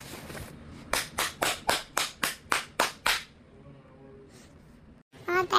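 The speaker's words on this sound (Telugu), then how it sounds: "All claps for Yashwant also." A classroom of students claps for a classmate in a short burst of about nine loud, evenly spaced rounds, then it goes quiet and a voice speaks briefly.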